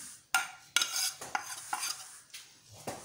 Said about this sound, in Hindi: अब इसके अंदर मैं सारे मसाले डाल देती हूँ।